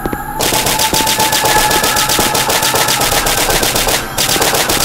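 A gun in the SCP: Site-19 mobile multiplayer game fires in rapid, continuous automatic bursts, loud and close, with a brief pause near the end before the shooting resumes.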